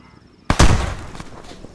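A grenade goes off in a military video game, one sudden loud close blast after a quiet moment, then a rumbling decay with scattered crackle.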